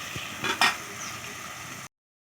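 Masala spice paste with tomato and salt is sautéed in a pan, giving a soft frying sizzle with a couple of brief stirring scrapes before the sound cuts off.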